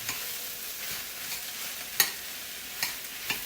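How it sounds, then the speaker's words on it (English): Three links of smoked turkey sausage sizzle gently in a frying pan, a low steady hiss with a few sharp taps of a utensil against the pan as they are stirred, no voices. "Now I'm just going to stir them around like this."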